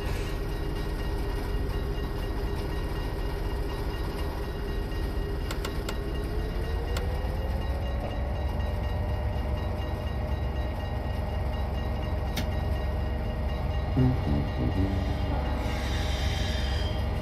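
A freight oil train bound for Coevorden passes close by with a steady, heavy rumble of wagons. Its wheels whine and squeal, and the sound holds for about seventeen seconds.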